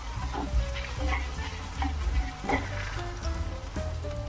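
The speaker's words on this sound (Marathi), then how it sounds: "कांदा आपल्याला व्यवस्थित परतवून घेणं आवश्यक आहे इथे, कारण आपण मशरूम मसाला करत आहोत" Onion sautés in oil for mushroom masala, giving a close, busy sizzle with stirring knocks and scrapes that come and go throughout.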